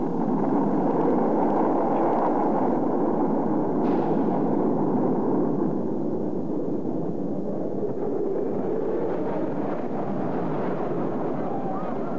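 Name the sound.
rocket engine ignition and launch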